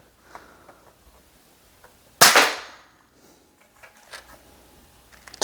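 A cheap airsoft shotgun fires once, a single sharp loud crack followed by a brief decaying rattle, with faint handling clicks before and after in an otherwise quiet space.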